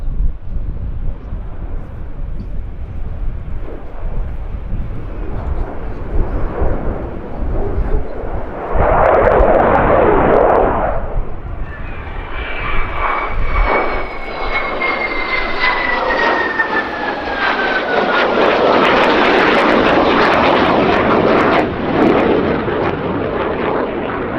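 Two-seat upgraded Flanker fighter jet performing a flying display at the Royal International Air Tattoo, RAF Fairford, with a loud roaring engine surge and a rising whine as it passes, buffeted by wind on the microphone.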